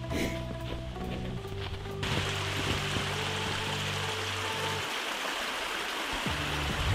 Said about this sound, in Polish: Tutaj jest zaraz taki potok górski.